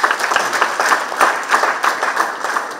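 A conference audience at a birders' gathering claps for donors, a steady patter of hands filling the room at moderate loudness with no talking over it.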